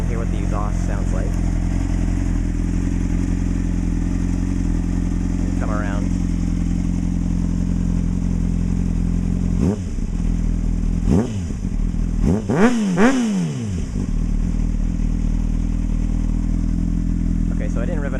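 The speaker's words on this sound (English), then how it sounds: "I'm gonna try to rev it up for you a little bit here so you can hear what the exhaust sounds like." A 2003 Honda CBR600RR motorcycle idles steadily, then its exhaust barks through several short, sharp revs before settling back, with a brief spoken remark early on.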